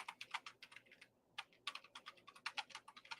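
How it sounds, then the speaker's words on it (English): Loud, fast typing on a computer keyboard, close up, with irregular bursts of sharp key clacks separated by brief pauses, and no talking. "I type loud. I bang on the keyboard."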